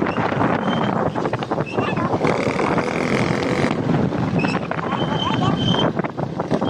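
Wind blows hard across the microphone while riding a motorcycle along curving roads, producing loud, continuous rumbling buffeting that stays steady throughout and masks any other sound.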